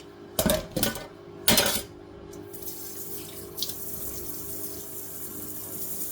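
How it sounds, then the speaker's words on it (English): Kitchen sprayer-type tap running with water splashing into a sink while cooking moi-moi, brief bursts of spray near the start, then a steady low running wash close by. "my tap is kind of the sprayer type, I get the stains all over, the water splash and all that"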